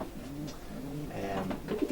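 A racing pigeon named Bolt, an inbred double winner from War Admiral and Irish Naffy lines, coos in soft repeated low rolling calls, close and steady over a faint background hum.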